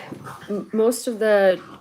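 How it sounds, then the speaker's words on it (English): Bulldogs playing and zooming around indoors, with close, high whimpers and yips coming in short bursts of two or three cries. "the dogs are playing, not just fetch, they're just like, having their bulldog zoomy things"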